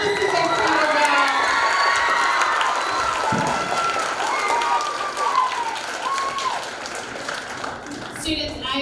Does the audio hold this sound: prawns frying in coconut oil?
no